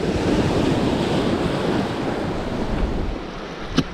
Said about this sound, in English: We've got a wave coming, so hopefully I won't get wet.